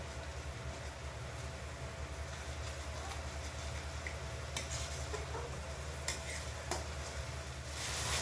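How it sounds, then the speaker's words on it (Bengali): Spice masala for street-style soya tikka masala, with Kashmiri chili powder, garam masala, tomato and ginger-garlic paste, frying in a pan: a continuous low sizzle with occasional stirring scrapes and clicks, fairly quiet and without talk. "এবার মশলাটা ভালো করে কষিয়ে নিতে হবে।"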